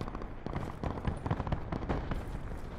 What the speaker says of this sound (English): there's people shooting sniper up the hill over here.